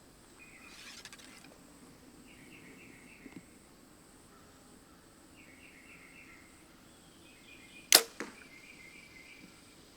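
A single sharp crack of a hunting arrow from a bow striking a target at close range, heard against a quiet outdoor backdrop with distant bird calls.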